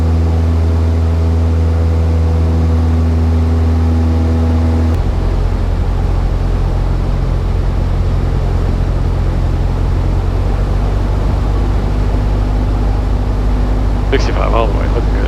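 A UPS cargo plane on its takeoff roll down runway 26R, a loud sustained low engine roar that steps up to full thrust and holds, with radio voices over it.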